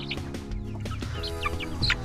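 A Pekin bantam hen, a small brownish Cochin-type bird, clucks in a quick run of soft, close calls over a faint background hum.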